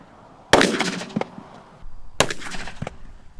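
Two loud, sharp .44 Magnum handgun shots fired outdoors into dirt, about a second and a half apart, each with a crisp crack and a short ringing tail.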